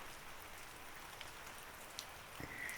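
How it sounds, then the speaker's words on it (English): Steady soft rain patters throughout, a broad even hiss with a few slightly louder drops near the end; no voices. "welcomed the sound of the rain"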